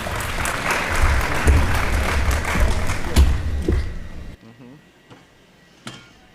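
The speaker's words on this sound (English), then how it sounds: "One more time, round of applause." An audience at a school showcase gives a round of applause, dense clapping with a few heavy thumps that stops abruptly, followed by near silence and a couple of faint taps.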